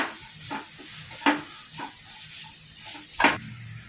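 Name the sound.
sautéing onion and toran mix in a pan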